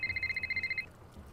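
A telephone rings in the Nancy Drew game Shadow at the Water's Edge, a rapid trilling electronic ring that pulses for under a second before cutting off, fairly clear and alone.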